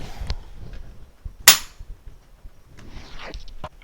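A single sharp, loud report from a Mossberg 930 SPX semi-automatic shotgun fired at an outdoor range, followed by quieter clatter and faint background rustling.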